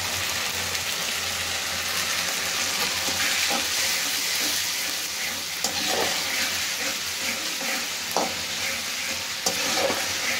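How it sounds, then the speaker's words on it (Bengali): Whole garam masala, cinnamon and cardamom, sautéed in a pan with a constant hissing sizzle and occasional clinks and scrapes of a stirring utensil, close and continuous. "এই যে মশলাটাকে এখন কষিয়ে নিল"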